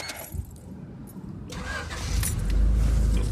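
A warmed-up 2.2L engine in a 1993 Honda Accord automatic wagon, fitted with a counterbalance elimination kit, cranks briefly and then catches into a steady, rising idle rumble, close and clear with no talking.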